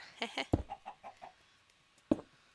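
A chicken in Minecraft gives a short run of soft, quick clucks, faint and near, with a couple of sharper click-like taps mixed in.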